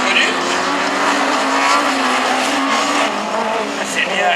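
Super 1600 rallycross cars, among them an Audi, race hard around the Châteauroux circuit, engines roaring loudly and steadily with tires squealing and skidding throughout, close and continuous.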